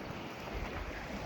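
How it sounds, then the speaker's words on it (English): Creek water runs through a dry, sandy desert canyon, giving a faint, continuous broadband rush with no distinct splashes, blended with light wind noise. "Just that beautiful creek running through here."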